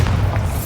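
A Bombarda blasting spell in a Hogwarts video game lands with a short, loud, deep boom that rumbles briefly, with no talking.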